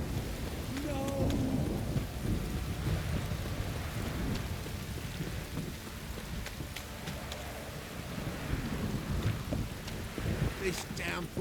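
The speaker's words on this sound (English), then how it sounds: "This downpour's a bastard, it is." Steady heavy downpour with rolling thunder in The Witcher 3: Wild Hunt video game, a continuous dense rain wash with low rumbles throughout and a voice speaking briefly over it.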